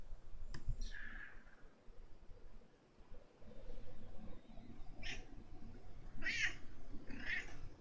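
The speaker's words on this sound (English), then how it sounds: "My cat says hello." A pet cat meows a few times in short, mid-pitched calls that rise in the second half, close by over a steady low room hum with no talking.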